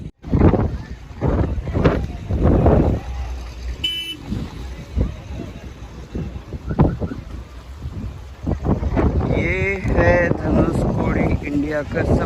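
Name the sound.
strong wind at Dhanushkodi seashore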